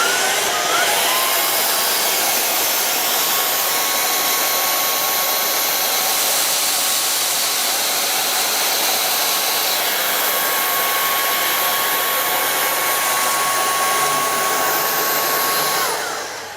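A Proscenic P10 Pro vacuum cleaner runs at full power, a loud steady high-pitched whoosh that holds for the whole stretch before winding down at the end.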